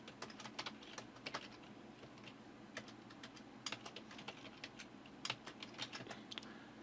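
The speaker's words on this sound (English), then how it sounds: "in Google you need to type internet speed" Fingers tap on a computer keyboard in quick, irregular keystrokes, faint and close against a quiet room hum.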